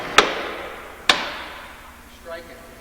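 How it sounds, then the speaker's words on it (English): A hammer strikes a wedge on a cast spoke wheel twice, each blow a sharp, ringing metallic clank about a second apart, followed by a faint rattle as the wedge loosens. "you take a hammer and just pick one wedge"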